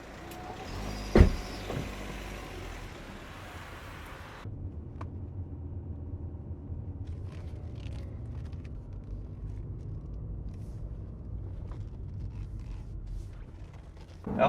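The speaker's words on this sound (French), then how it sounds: "La voiture est chaude, elle est en gaz, elle monte jusqu'à 4000 tours minute" A warm Audi A5 coupé pulls hard on a four-lane road test, its engine rising toward 4000 rpm as a steady interior rumble with road noise, following a sharp click and a brief louder opening.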